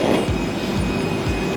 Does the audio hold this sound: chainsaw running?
no